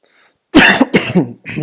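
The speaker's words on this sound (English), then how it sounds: "So you don't need to listen my cough" A close, loud cough bursts out in two or three harsh hacks after a brief quiet start, followed by another rough throat sound.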